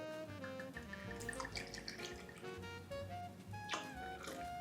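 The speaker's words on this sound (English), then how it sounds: "I'm then going to add around 60ml of hot water directly to the glass." Hot water pours into a glass already holding Irish whiskey, a steady close trickle and gurgle that runs for several seconds with no talking.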